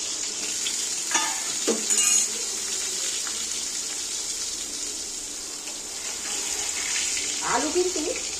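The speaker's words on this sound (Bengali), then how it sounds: "আলুগুলো তেলের মধ্যে তুলে দিচ্ছি" Potato pieces drop into hot oil for chicken biryani and fry with a continuous hissing sizzle, a few soft knocks and stirring clatters near the start and end.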